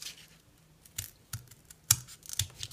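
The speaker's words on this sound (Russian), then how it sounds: "Хозяйственными ножницами подрезаем." Household scissors trim material while making a stand for a half doll, giving a few short crisp snips spaced irregularly, close and quiet with no talking.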